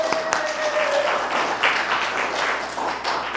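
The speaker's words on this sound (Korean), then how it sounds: "다시 한번 큰 박수 부탁드리겠습니다" Applause from an audience after a professor's lecture, a short steady burst of many hands clapping close by.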